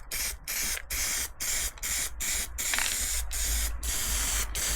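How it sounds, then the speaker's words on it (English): Aerosol can spraying protective coating onto the underside of a VW Splitscreen, a series of about ten short hissing bursts with brief gaps between them, close and fairly loud. "So we'll now give this bit of a spray."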